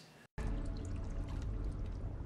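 Water floods into a cave in the animated film Tangled, a dense, loud, steady rushing that starts after a brief cut of silence and continues without talk.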